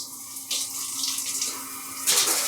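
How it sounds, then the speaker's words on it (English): Steady running shower water pours and splashes continuously aboard a Via Rail sleeper train, growing louder and more hissing partway through, with no voices. "now it's time to shower on a train"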